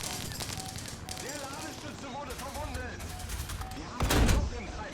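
Gunfire in a vehicle combat video game: rapid overlapping shots and bursts run throughout, ending in a louder, heavier blast near the end.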